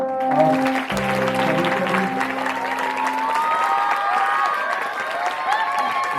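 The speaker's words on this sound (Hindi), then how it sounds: "जोरदार तालियां हो जाए।" Loud audience applause at a Gandhi and Shastri Jayanti program at Kilkari Bal Bhawan, Patna, dense clapping with some cheering and crowd voices, while tonal music or singing carries on over it.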